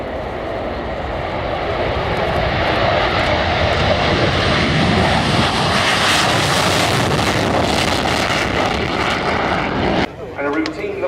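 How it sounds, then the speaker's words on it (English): Two Sukhoi Su-22M4K Fitter attack jets roll down the runway at an airshow, their turbojet engines building to a loud, sustained roar that fills the scene before dropping sharply near the end, with an announcer talking over it. "Rolling now, two examples of the Sukhoi Su-22"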